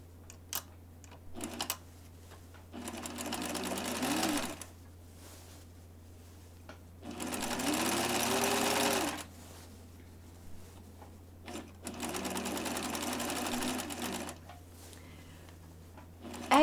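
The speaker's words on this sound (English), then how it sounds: "as you can see, I'm stitching at the 1/2 inch" Sewing machine running bursts of stitching along a half-inch sleeve seam on a garment, several short runs of steady mechanical whirring separated by pauses, near and moderately loud.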